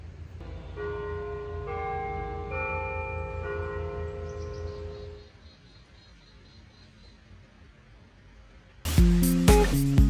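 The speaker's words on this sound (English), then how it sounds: "Cue the bells." Church bells ring out in sustained, layered tones for several seconds, then fade, before a sharper burst of bell strikes near the end.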